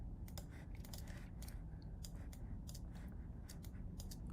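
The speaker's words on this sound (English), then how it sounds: "keyboard stroke" Faint computer keyboard keystrokes tap out an irregular run of light clicks over a steady low background hum, with no talking.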